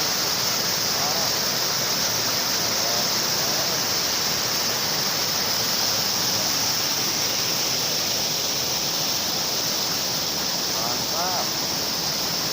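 A river waterfall pours steadily and loudly, a dense continuous roar of rushing water with no break, close by and filling the whole scene.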